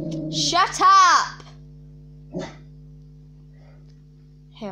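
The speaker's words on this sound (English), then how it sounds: "Hang on, let me stop my dog." A dog gives a loud, rising, wavering bark-like yelp near the start, then a brief shorter yip a second later, over a steady low electrical hum.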